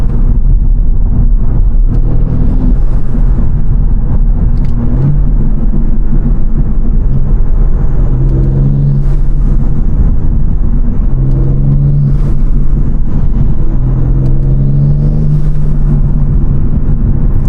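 A BMW M3 Competition accelerating hard on a street, its engine a loud, close, continuous roar whose pitch climbs steadily through the revs, with no talking over it.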